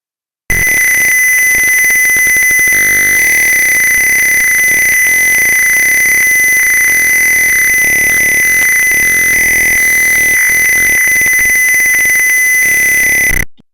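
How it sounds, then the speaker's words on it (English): A loud electronic buzzer, a low-water-level alarm in a vertical farm, sounds as a continuous, steady high-pitched tone that holds unbroken for over ten seconds, then cuts off. "when the water level is low just now, it will turn on the buzzer"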